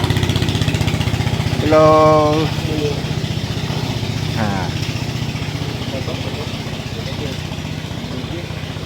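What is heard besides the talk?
motorboat engine on a river in Vietnam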